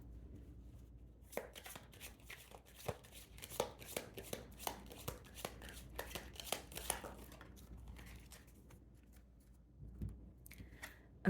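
A deck of tarot cards is shuffled indoors: a quiet run of quick, crisp riffling snaps and flicks that builds in a rapid burst, then thins out into a few scattered soft rustles.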